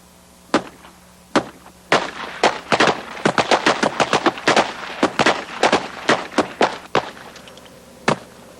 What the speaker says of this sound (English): Commence fire!